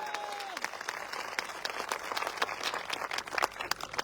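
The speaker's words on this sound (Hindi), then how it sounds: "आप लोग अपने लिए अभी तक की सबसे जोरदार तालियां बजाइए।" Audience applause at an AWPL business gathering, dense continuous clapping from a large crowd, fairly distant and steady throughout, with a brief voice at the very start.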